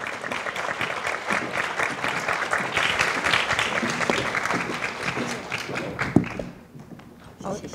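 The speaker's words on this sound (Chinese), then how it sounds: "现在就让我们以热烈掌声欢迎" An audience at an Asia University lecture hall applauds to welcome lecturers onto the stage, a dense and steady wash of clapping that runs throughout and thins slightly toward the end.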